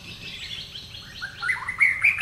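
A shama bird sings outdoors, a rising run of clear whistled notes and chirps that grows louder toward the end, with no voices present.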